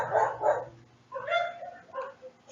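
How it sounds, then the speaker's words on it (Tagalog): Dogs bark in a few loud nearby barks and yips. The first two barks come close together, followed by higher, yelping barks. "Pagpasensyahan nyo na yung mga aso, masyado silang bida-bida."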